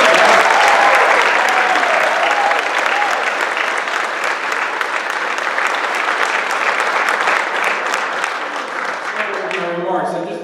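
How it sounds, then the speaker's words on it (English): A big, loud round of applause fills the room at a class graduation ceremony, dense continuous clapping from a large audience that holds steady for about ten seconds before easing off, with faint voices at the end. "How about a big round of applause for you?"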